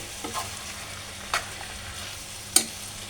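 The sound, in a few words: stirring chicken into sauces in a frying pan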